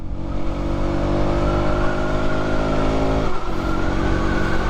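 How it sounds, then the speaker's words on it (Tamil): A KTM Duke 200 motorcycle being ridden gives a loud, close, continuous engine drone whose pitch climbs gently, with a brief dip in the note before it carries on steadily. "நான் இப்போ தான் டியூக் டூ ஹண்ட்ரட் ஓட்டுறேன் செமையாக இருக்குங்க ம் பவராக இருக்குது"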